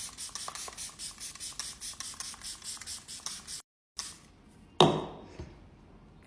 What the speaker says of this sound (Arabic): نعمل سبراي.